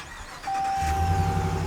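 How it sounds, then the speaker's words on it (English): A 2022 Ram 1500 Limited pickup, lifted on air suspension, starts up: a chime tone rings, then the engine catches with a low rumble that settles into a steady, close idle. "But turning the truck on"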